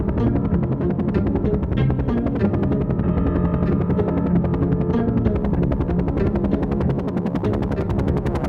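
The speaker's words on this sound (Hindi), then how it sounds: "हेलीकॉप्टर समंदर के ऊपर से जा रहा था।" A cartoon helicopter flies over the sea, its rotor making a steady, loud, continuous rhythmic thrum that holds at an even level throughout.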